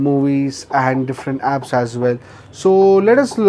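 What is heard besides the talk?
None of the usual background noises is heard.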